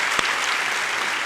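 A church congregation at a Sunday worship service claps in blessing, a short burst of close, dense applause that stays level for about a second.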